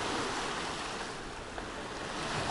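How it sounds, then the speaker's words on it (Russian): Sea surf washing onto a beach of large stones at Loo, a steady broadband wash that swells gently and stays fairly faint throughout, with no talking. "и вот уже у вас здесь море"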